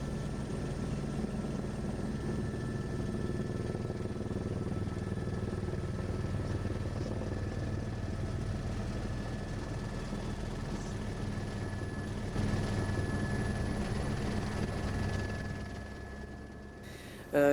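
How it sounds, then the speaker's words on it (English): A helicopter on a tour flight into the Grand Canyon, a steady, muffled rotor and engine drone heard from inside the cabin, unbroken for the whole stretch and fairly quiet. "I went on a helicopter tour and we flew into the Grand Canyon and landed there."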